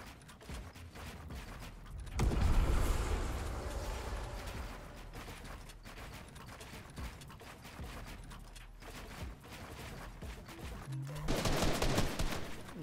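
Rapid bursts of gunfire from a Fortnite 1v1 tournament match, loud and dense, swelling around the second and eleventh seconds over steady game noise.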